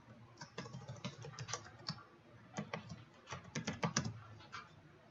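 Quick bursts of keystrokes as a password is typed on a computer keyboard, close and fairly quiet, with uneven rhythm and short pauses between clusters of taps.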